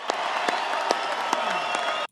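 A crowd applauding as a wealthy guest is called up on stage, a steady wash of clapping with a few sharp louder claps standing out and faint crowd noise, cut off abruptly.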